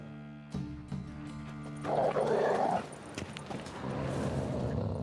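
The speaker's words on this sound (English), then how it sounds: "Just beware of the dogs." Dogs bark and whimper in The Witcher 3: Wild Hunt, a few sharp yips and barks close by over a game soundscape with a brief burst of noise in the middle.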